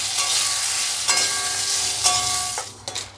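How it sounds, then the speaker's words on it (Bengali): Bay leaf, dried chillies and whole garam masala frying in a little hot oil, a steady loud sizzle with crackling bursts and faint metallic stirring clinks, no voices. "এবার আমি একটু তেজপাতা, শুকনো লঙ্কা আর গরম মশলা, গোটা গরম মশলা কিছু এতে দিয়ে ভেজে তুলে রাখবো"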